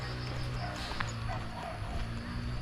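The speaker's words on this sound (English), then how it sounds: "Bloody dogs in there." Dogs barking in a Vietnamese village beside rice fields at sunset, a steady rough chorus of barks and yips at middle distance over constant outdoor background noise.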